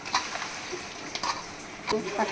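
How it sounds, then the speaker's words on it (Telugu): A fish curry mixture with three tablespoons of oil sizzles in a pan while a spoon stirs it, giving a close, steady fry hiss broken by three distinct scraping strokes. "ఆయిల్ వేసుకుని మళ్ళీ ఒకసారి మొత్తం మిక్స్ అయ్యే విధంగా కలుపుకుందాం."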